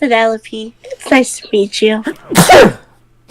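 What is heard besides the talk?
sneeze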